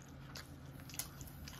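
Soft close-up biting and chewing of fried mushroom chicken from Osaka, a few faint crunches and one sharper bite in a quiet, low-level setting.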